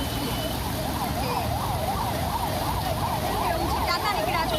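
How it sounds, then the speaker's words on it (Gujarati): An ambulance siren stuck in a flooded, jammed Ahmedabad street during heavy monsoon rain wails in a repeating rising-and-falling pattern, loud and continuous over rumbling traffic. "પાછળ જુઓ કે એમ્બ્યુલન્સ જવાનો પણ રસ્તો નથી, એમ્બ્યુલન્સ જવા માટે પણ હાલાકી પડી રહી છે।"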